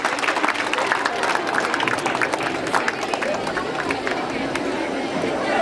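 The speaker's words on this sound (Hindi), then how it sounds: "आप जोरदार तालियों से अभिनंदन कीजिए" Audience at a school award ceremony applauding a guest in welcome, a continuous dense clapping roar with crowd murmur mixed in throughout.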